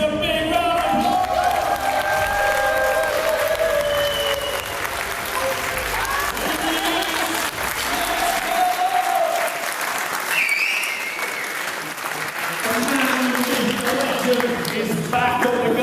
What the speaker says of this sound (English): Let's give Alfie best a big round of applause.